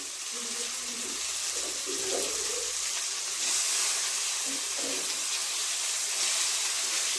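Tomatoes sizzling in a hot pan with fried onions while cooking dried-fish chutney, a steady hissing sizzle with a few faint voices or clinks in the background.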